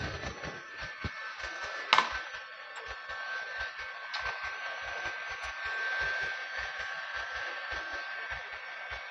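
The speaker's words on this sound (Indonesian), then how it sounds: "sekarang dia lagi proses pemanasan bagian kacanya nih, teman-teman. Dia pakai, kebetulan ini kayak hair dryer baru" A new hair dryer blows with a steady whirring hum while heating car window tint film during car preparation before delivery, with faint rhythmic ticks and one brief knock partway through.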